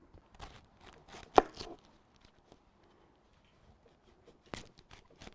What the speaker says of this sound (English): I want to slice up some onion, which we're going to use for the bed of the tri-tip